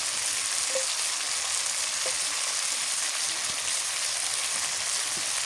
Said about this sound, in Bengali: এখন ময় মশলা দিয়ে ভালো করে কষান করে নিন আদা বাটা দিয়ে দিলাম